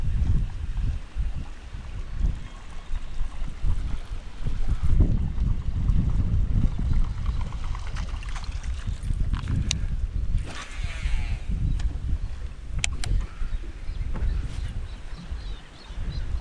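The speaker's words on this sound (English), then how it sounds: "Wind is absolutely cranking" Strong gusty wind buffets the microphone beside a river on a camping and fishing trip out west, a steady low roar with rushing surges and no voices.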